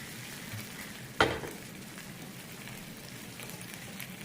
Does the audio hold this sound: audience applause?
no